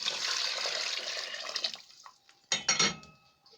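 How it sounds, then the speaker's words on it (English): Light cream of coconut poured into a coconut pilau mixture, a steady close liquid pour that tapers off, followed by a few wet splashes and utensil clinks. "I'm now going to add the light cream of coconut into the mixture."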